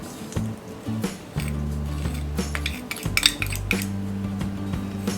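Spoon clinks and scrapes around a bowl, mixing a sweet modak filling of almonds, raisins, cardamom powder and powdered sugar; steady close clatter over soft background music, with no talking.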